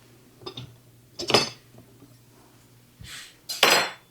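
Metal cutlery clinks in a kitchen while a knife is fetched for preparing barbecue ribs, with a few short separate bursts of rattling and clattering and quiet gaps between them.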